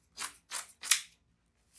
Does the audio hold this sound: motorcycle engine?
no